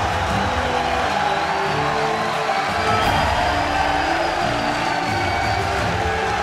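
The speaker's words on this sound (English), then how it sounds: "Standing ovation from the majority of the crowd here." A large crowd at a League of Legends esports playoff match stands and cheers, a dense, steady roar of applause and whoops filling the whole stretch without letup.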